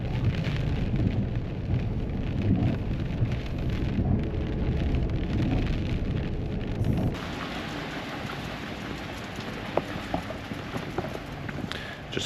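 Steady heavy rain drums continuously on a surface close by in Queenstown, Tasmania's west coast, a dense hiss with occasional louder taps, easing slightly partway through.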